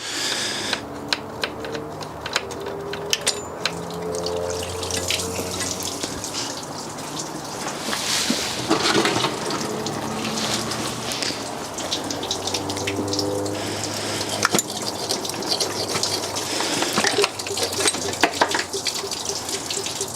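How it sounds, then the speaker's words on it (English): Coolant dripping and trickling from two spots on a car cylinder head into a catch container, close and steady, with scattered clicks and light metallic taps over a constant watery patter. "it is going to start leaking quite a lot from the cylinder head in those 2 places."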